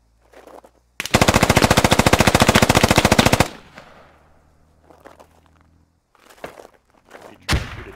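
Automatic gunfire aimed at a tree in the Squad video game: one long, loud, rapid burst lasting a couple of seconds, then quieter thuds, shuffling steps and a final sharp shot.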